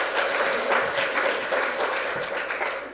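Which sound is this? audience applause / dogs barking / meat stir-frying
audience applause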